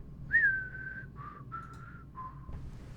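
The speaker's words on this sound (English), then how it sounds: "I didn't even know you could whistle." A person whistles a short tune of four or five sustained clear notes with brief gaps between them, close and fairly quiet, with no voices over it.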